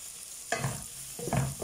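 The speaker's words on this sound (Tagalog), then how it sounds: "Ayan, lutuin natin medyo yung ating hotdog." Hotdog pieces cooking in a pan, a soft steady sizzle with two short bursts of stirring and scraping, close and fairly quiet, no voices.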